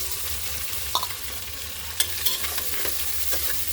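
Onion, garlic and chillies fry in a pan as a spoon stirs them, a steady soft sizzle broken by a few sharp scraping clicks, close and with no voices.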